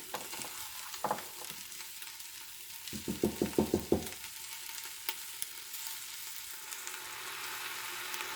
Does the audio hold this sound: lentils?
yes